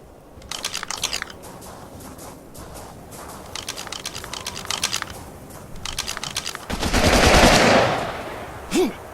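Automatic gunfire in the survival video game Sons of the Forest, rapid bursts of rattling shots repeating in several volleys, close and loud, ending with a louder sustained blast.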